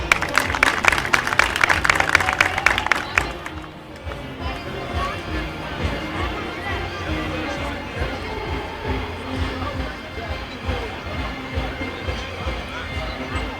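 Audience at a village picnic applauding, a dense burst of clapping for about three and a half seconds, then it drops away to crowd murmur and background chatter.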